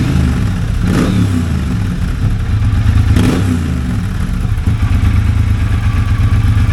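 A Triumph bobber motorcycle fitted with its stock exhaust, idling close and steady with two short revs rising above the engine rumble, no talk.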